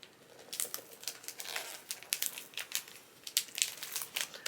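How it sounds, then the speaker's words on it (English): Paper wrapping around a book package crinkles and tears in quick, close bursts of rustling at moderate loudness, with no talking. "this is the one I'm gonna unwrap"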